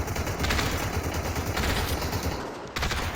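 Dense, continuous gunfire from a battle in the Population: ONE VR shooter game, rapid overlapping automatic bursts and shots sustained throughout with a brief dip near the end.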